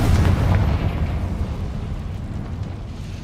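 Bombarda and Confringo spell explosions from the Hogwarts Legacy video game, a heavy booming blast at the start that fades into a long low rumbling tail.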